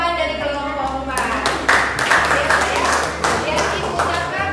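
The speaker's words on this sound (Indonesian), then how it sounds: "tepuk tangan untuk jawaban dari kelompok 4" Students in a classroom clap for a group's answer, a loose burst of hand claps under an adult's voice, with sharper, louder clapping swelling midway before tapering into scattered claps.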